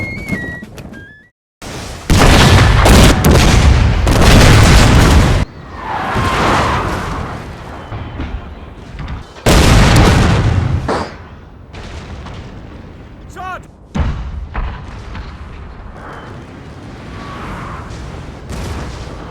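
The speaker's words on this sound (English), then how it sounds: "following a huge artillery bombardment" Heavy artillery bombardment at the Battle of Waterloo, 1815, in Total War: loud booming cannon blasts arrive in big rolling bursts separated by quieter rumbling gaps, with sharp reports cutting through.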